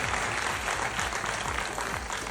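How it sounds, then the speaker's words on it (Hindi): Loud audience applause fills the room at a seminar, a dense steady wash of many hands clapping at once, with no voices breaking through. "एक बार जोरदार तालियां पहले खुद के लिए करो यार"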